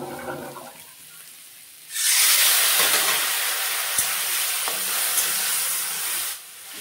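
A splash of water poured into okra frying in a hot pan with turmeric and cumin powder, erupting into a loud, sustained hiss of steam that holds for several seconds before cutting off.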